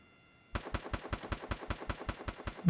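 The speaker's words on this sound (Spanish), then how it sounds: "Me están disparando." Automatic gunfire in Free Fire MAX near a bus stop: after a brief quiet, a rapid, steady string of loud, close shots rings out at an even rhythm.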